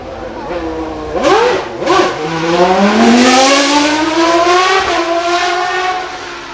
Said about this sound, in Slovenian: Zato sem izbral tu zvok motorja Renault V10, kateri je bil karakterističen za tista 90. leta prejšnjega tisočletja.